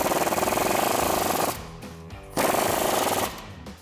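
Impact gun tightening the lower control arm bolts on a 2007-2016 Chevrolet Silverado 1500, two loud rapid hammering bursts with a brief pause between them, close up.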